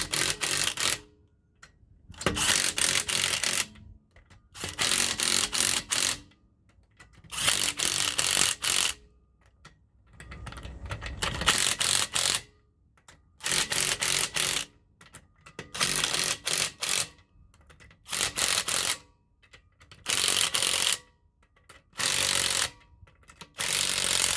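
A loose dust plate on the rear brake of a 2014 Subaru Legacy rattles and scrapes in repeated bursts of mechanical clatter, each lasting a second or two with short silences between, close and fairly quiet.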